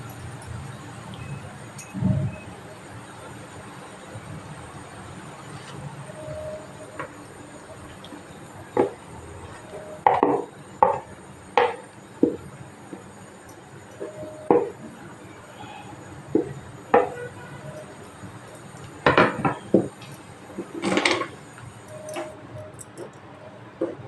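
Peanut paste added to a pan for raw peanut barfi and stirred, a run of scattered clinks, taps and scrapes of a utensil against the pan, irregular and close, over a low background hum with some faint talking.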